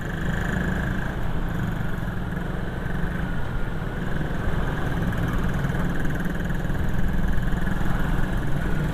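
A Honda Vario 160 scooter engine runs steadily at idle close by, a constant mid-pitched mechanical hum with a faint rattling knock underneath, unbroken for about nine seconds and with no voices.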